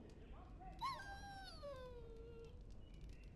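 A dog in the Dragon Age: Origins video game gives a single high whimper that slides downward into a long, fading whine over low background noise.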